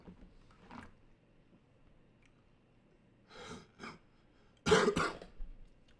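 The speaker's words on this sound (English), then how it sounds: "Cough is crazy." A few coughs and throat-clearing sounds in a quiet room, a soft one first, then a pair, and a loud harsh cough near the end.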